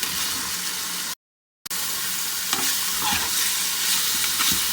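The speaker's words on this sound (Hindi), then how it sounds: "इनको 2 से 3 मिनट के लिए मज़ीद पकाएंगे ताकि चिकन जो है अच्छे से गल जाए।" Chicken with chili flakes, salt, garlic powder and oregano cooking in a pan for fajita pizza, a close steady sizzle and frying hiss with stirring, briefly cutting to silence midway, no voices.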